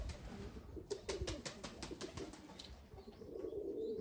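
Poltava white pigeons cooing softly outdoors, a few rolling coos over light rustling and faint background noise, fairly quiet and close.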